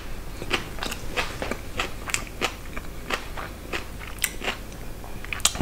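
Raw parsnip bitten and chewed up close, a steady run of crisp, crunchy bites and chews filling the whole stretch without talk.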